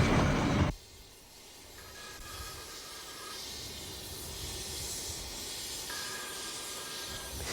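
A steam locomotive once used to haul 1,000-ton limestone trains hisses steadily at close range on the Severn Valley line, a broad continuous rush of steam with faint tonal whistling layered over it.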